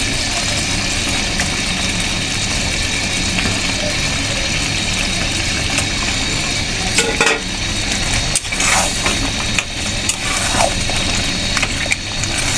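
Goat meat frying in a pan of cooked-down spice masala for korma, a steady broadband sizzle running throughout with a few brief scraping clatters partway through, fairly loud and close, no talking.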